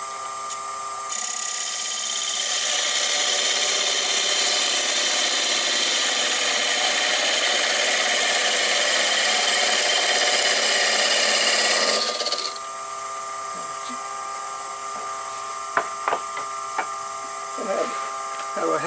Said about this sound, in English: I'm going to take my parting tool and part it down part ways